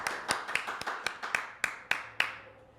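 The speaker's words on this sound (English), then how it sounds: "we gotta do real applause" A scattering of separate sharp claps, roughly a dozen, close and moderately loud, with a faint hum underneath as they thin out and stop.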